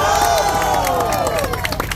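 A crowd at a modified-truck car meet in Batusangkar, Tanah Datar, cheers and claps together, a dense, steady wash of applause and shouting voices heard fairly close throughout.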